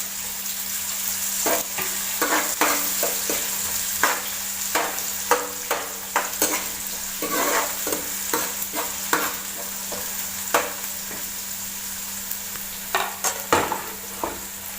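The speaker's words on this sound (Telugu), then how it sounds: "ఇప్పుడు ముందుగా కట్ చేసుకున్న ఆనియన్స్ ముక్కలను వేసుకొని కొంచెంసేపు వేగనివ్వాలి" Onion pieces sizzling steadily in a hot pan for a chicken curry, loud and close, with repeated stirring scrapes of a utensil against the pan throughout.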